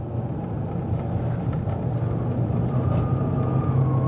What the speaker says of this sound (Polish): Słuchajcie, jak ten samochód jedzie w zakręcie.